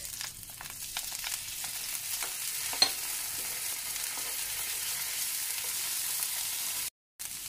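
Garlic and ginger paste frying in a pan during preparation of a lamb liver dish, a soft continuous sizzle with scattered crackles and stirring scrapes, one sharp clink near the middle, alone without talk.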